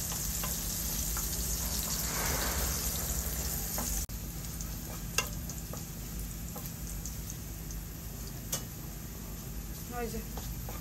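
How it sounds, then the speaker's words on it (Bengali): Onions fry in oil in a home kitchen as the greens go in, a steady broadband sizzle that runs throughout with a few sharp clicks and stirring scrapes, close and fairly loud. "ওই যে পেঁয়াজ ভাজা হয়ে গেছে"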